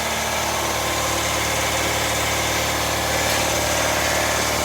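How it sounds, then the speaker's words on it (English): A loud, constant mechanical drone of a running air compressor in a workshop, steady and close, with no pauses or talking. "It's gonna be loud because it's right next to the air compressor"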